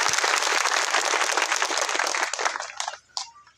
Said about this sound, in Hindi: बजाओ ताली माता फातिमा शेख के लिए